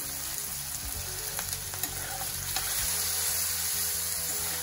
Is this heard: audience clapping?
no